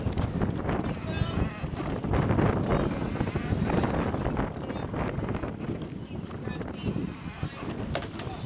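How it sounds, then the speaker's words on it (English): Wind blows steadily around a women's rowing eight racing on the river, a loud continuous gusty roar with buffeting on the microphone, while a cox calls out over it. "Lots of wind around this corner."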